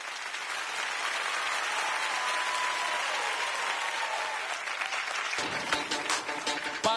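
Sustained audience applause at a TV impersonation show, a dense loud wash of clapping from a studio crowd that shifts into rhythmic music near the end.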